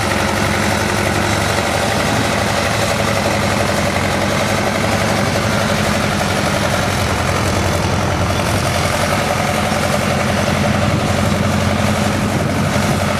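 A twin-turbo tractor engine, the 68, idles steadily at a Red Power show, a loud, continuous low rumble with constant vibration and no break for the whole stretch.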